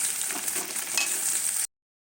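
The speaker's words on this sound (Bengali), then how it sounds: "এরপর আলুটা ভাজছি" Potatoes fry in a pan of hot oil in a home kitchen, giving a steady, close hiss and crackle that cuts off abruptly after under two seconds.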